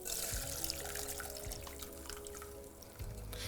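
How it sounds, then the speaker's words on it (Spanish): Soaked pistachios and their water are poured into a kitchen strainer, a steady splashing trickle of liquid running for several seconds at close range, without any speech. "Ponemos un colador, vamos a volcar entonces nuestros pistachos dentro, siempre con mucho cuidado."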